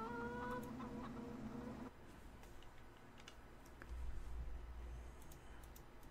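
Farm chickens clucking in Farming Simulator 2015, a flock of 200 birds heard as soft, low-level clucks and fowl chatter under a quiet game ambience with faint keyboard tapping.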